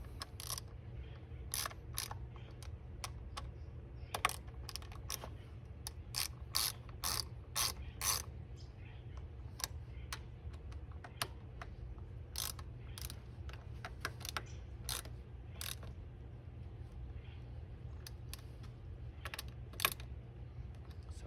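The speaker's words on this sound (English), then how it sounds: "Just lightly tightening these things down, like so." Bolts on a Trail125 motorcycle stem clamp are lightly tightened with a ratchet wrench, giving many quick, sharp clicking bursts close up over a low steady hum, with no talk.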